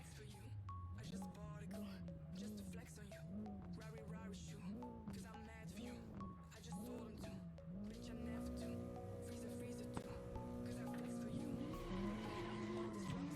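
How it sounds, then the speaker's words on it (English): Mazda Miata sliding through a drift in a racing video game, engine note wavering steadily as tires squeal continuously, with a commentator talking over the whole run. "Miata go vroom vroom."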